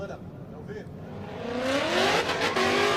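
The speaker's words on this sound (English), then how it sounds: "I was hearing the limiter and car moving nowhere" A Mustang drift car of about 600 brake horsepower at a drift championship qualifying round hits its rev limiter, the engine howling and rising, then holding a loud stuttering high pitch with tire squeal.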